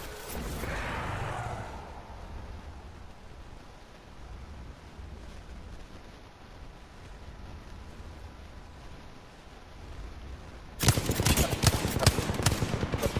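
Gunfire in the video game Apex Legends: after a long stretch of low ambient rumble and a brief breathy sound at the start, a rapid burst of automatic shots breaks in near the end, loud and close.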